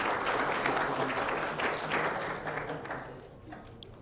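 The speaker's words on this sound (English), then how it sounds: "So let's give them a warm round of applause." Warm audience applause at a hackathon evening workshop, a steady wash of many hands clapping that gradually thins and fades toward the end.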